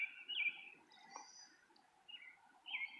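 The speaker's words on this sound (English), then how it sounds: "I can already hear some birds." Birds calling outdoors during a bird-hunting outing, a few short high chirps near the start and again toward the end, fairly faint over quiet background.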